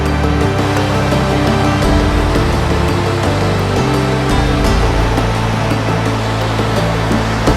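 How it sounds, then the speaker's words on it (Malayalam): Small roadside waterfall at Anchuruli in hilly Kerala, a steady broadband rush of falling water heard close and loud throughout, with faint engine rumble from passing traffic underneath. "കയറി വരുന്ന വഴിക്ക് തന്നെ കാണാൻ പറ്റുന്ന ഒരു വെള്ളച്ചാട്ടം."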